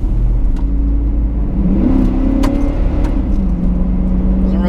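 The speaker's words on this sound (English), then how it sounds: "I can feel that engine. I can hear it trying." A Chevy HHR's engine drones and strains steadily under load while accelerating, a constant low hum with a faint rising whine, heard from inside the vehicle.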